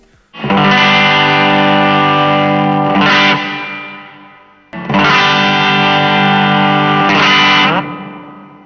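Electric guitar run through a ZOOM MultiStomp MS-50G reverb effect, two loud sustained strummed chords each ringing for about three seconds and then fading into a reverberant tail, with no talking.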